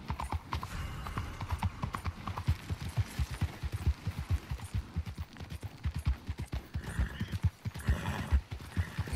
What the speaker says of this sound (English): This is why I can't ride my horse in the city.